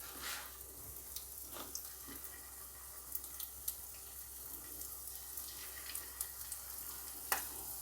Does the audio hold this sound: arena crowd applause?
no